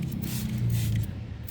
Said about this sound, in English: Spray it on just like that and let it sit.